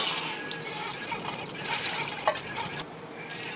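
Water drains and drips faintly from soaked fenugreek seeds and chickpeas being strained for pickle, a soft, steady trickle with a few brighter drops, quiet and close, with no talking.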